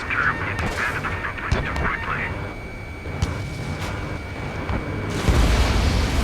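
In the Ace Combat 7 flight game, a missile strikes its target and explodes with a sharp booming burst, preceded by several short impacts and jet noise, with a loud low rumble at the end.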